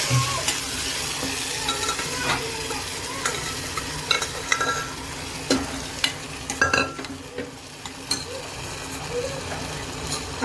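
Chickpeas go into fried masala of red chili powder in a pan and are stirred, a constant close sizzle under repeated spoon scrapes and a few metallic knocks against the pan.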